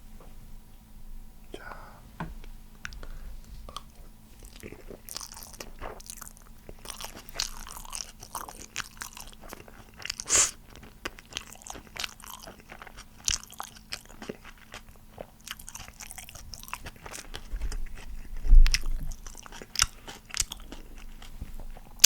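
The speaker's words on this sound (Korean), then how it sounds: "일단 한 입 한번 그냥 먹어보도록 하겠습니다" Someone eats a Korean military combat ration, soft rice like porridge, close to the mic, with quiet, irregular crunches and wet chewing spread over several seconds, with low whispered voice between bites.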